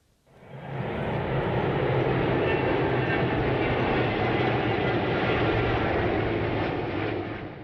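Military aerobatic aircraft fly over in formation at a Spanish armed forces display, a loud sustained roar of engines that swells within the first second and holds steady before fading slightly at the end, with no voices.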